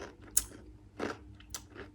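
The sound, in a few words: biting into a crunchy gingerbread man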